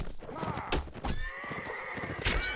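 A horse in a video game battle gives a sharp, high whinny, with other neighs and hoof clatter in a busy combat soundscape and faint commentary voices underneath.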